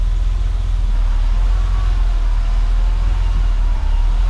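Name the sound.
BMW E30 in second gear, clutch slowly let out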